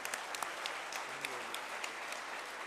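Applause from an audience at an evening event honoring disabled patients, a steady, fairly faint patter of many hands clapping with no voices over it.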